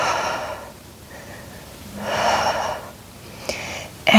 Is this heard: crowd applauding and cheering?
no